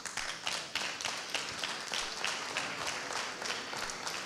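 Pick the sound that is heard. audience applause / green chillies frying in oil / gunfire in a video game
audience applause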